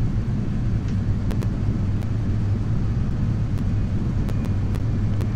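A DC-3 airliner sits on the ground in Flight Simulator X, its piston engines giving a steady low rumble with faint clicks over it.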